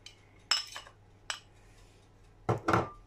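Potato and cheese mixed in a bowl with a utensil: a few separate clinks and scrapes against the bowl, brief and close, in two quick pairs with a single knock between them and quiet gaps all around.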